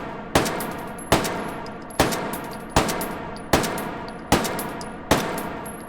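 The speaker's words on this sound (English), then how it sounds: "Right, let's pop some shots down the range." Pistol shots fired one at a time down a shooting range in the VR game H3VR, a German pre-WWI to WWII handgun with an eight-round magazine; seven loud, sharp cracks at a steady, unhurried pace, each trailing into a short ringing decay.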